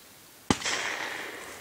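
A single sharp hunting rifle shot during a Spanish montería cracks out after a brief quiet, its report echoing and fading over open ground.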